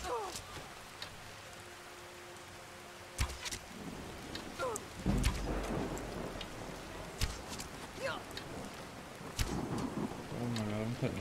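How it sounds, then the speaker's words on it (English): Rain and thunder rumble in the video game Skyrim, a steady downpour hiss broken by several deep thunder booms, mixed with game sound effects and a player talking over it. "now we're having some issues with the rain"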